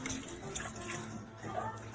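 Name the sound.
water being poured slowly into a pot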